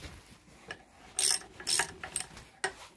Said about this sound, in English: it's hard work tightening your nuts one-handed